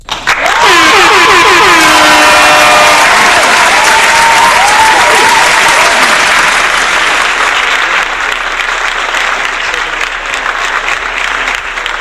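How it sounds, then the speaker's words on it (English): Loud, sustained applause from an audience fills the space, with shouts and whoops rising over the clapping early on before it settles into a steady wash of claps that slowly thins. "can we get a round of applause for this, man?"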